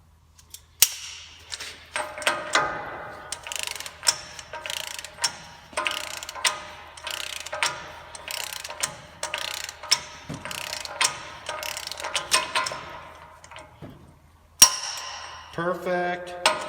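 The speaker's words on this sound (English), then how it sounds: "we're going to torque it to, let's see, 173 foot-pounds" A torque wrench tightens the front wheel bearing nut on a Toyota Tacoma, a long run of loud, close ratcheting clicks in repeated bursts, then a few sharper metallic clacks at the end.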